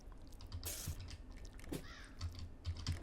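A crow caws a few times in the horror game Granny, faint and brief against quiet clicks and drips.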